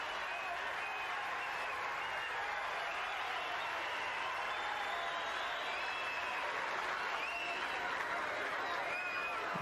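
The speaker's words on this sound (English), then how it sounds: "The crowd doing its best to motivate him" The tennis crowd at the 1997 Key Biscayne semifinal between Muster and Courier keeps up steady, moderately distant applause and murmuring, a continuous bed of clapping that lasts throughout.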